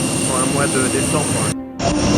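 Airplane jet engine during a 2 h 45 min flight, a loud steady cabin roar that briefly dips and returns, with a voice talking over it.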